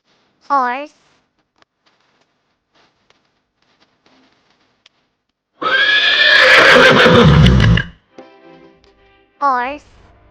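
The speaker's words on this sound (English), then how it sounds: "Horse." Horse on a farm neighing, a loud close whinny at the start and another at the end, with a burst of noisy snorting and rustling in between.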